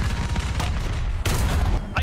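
Tank cannon fire from War Thunder, with a Somua SM or AMX-50 in battle. A loud, continuous barrage of booming blasts plays with no break in the noise and no voices.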